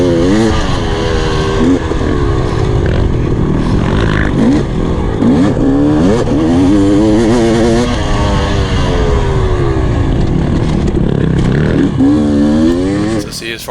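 Racing motorcycle held at full throttle along a back straight during a CORCS race, its loud, high-pitched engine wailing steadily and shifting pitch over several seconds beneath ongoing talk.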